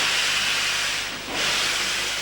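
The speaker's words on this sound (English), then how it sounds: "the engine slowly starts to move" A steam locomotive easing into motion releases loud, broad steam hissing that briefly dips in the middle and then surges back, close and without talk.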